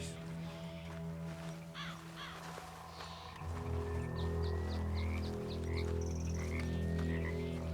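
A frog in the game Red Dead Redemption II gives a series of short, evenly spaced croaks in a woodland setting, moderately loud over continuous low ambient drone and faint calls.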